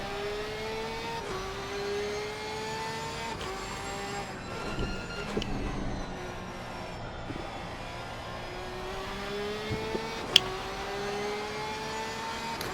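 GT3 race car engine on sighting laps at Watkins Glen in a racing video game, a steady whining drone that rises and falls through gear changes, close and continuous with a few brief knocks.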